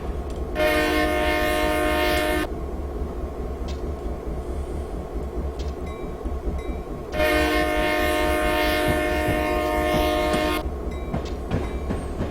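A Norfolk Southern GP38-2 high-hood locomotive horn in a train simulator game sounds two long, loud sustained chords, each lasting a couple of seconds, over a steady low diesel rumble and faint track clatter.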